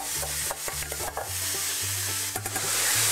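Minced meat stirred and sizzling in hot olive oil in a frying pan, a steady close fry with scraping strokes of a utensil throughout, no talk.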